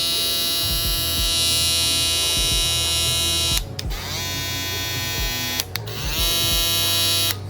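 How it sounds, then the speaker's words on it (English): A Babyliss FX One electric shaver runs close up with a loud, steady high-pitched buzz, briefly interrupted twice as it is handled. "It's a shaver. Shavers are always loud."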